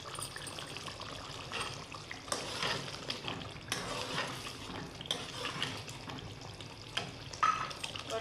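Potato curry with fenugreek leaves simmers in a pan, a soft steady sizzle and bubbling with intermittent scraping stirs, fairly quiet and without voices.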